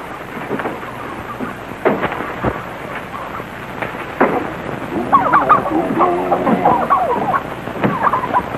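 Turkeys gobble and cluck nearby in a busy cluster in a basement, with sharp knocks and a low rumbling background beneath the calls.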